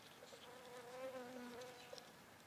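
A honey bee buzzes faintly on a crocus flower in spring, a soft wavering drone that rises and shifts in pitch, heard alone with no talk.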